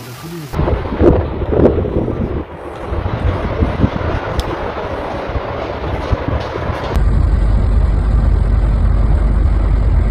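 Strong storm gusts roar loudly through a German city center during a severe summer storm, with heavy rain, rumbling thunder and a constant blustery wind noise building to a sustained roar.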